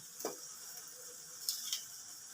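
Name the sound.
whole green chillies added to hot oil, sizzling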